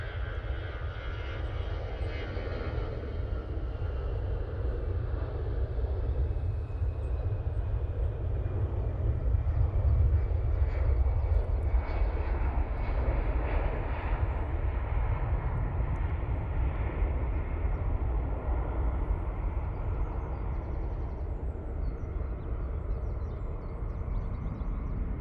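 A plane at Manchester Airport in low visibility gives a loud, sustained jet roar with deep rumble, swelling slightly toward the middle and holding steady throughout, with no voices.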